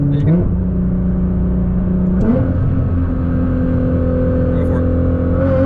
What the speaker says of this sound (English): I'll just have you click it down a second, give her the gas.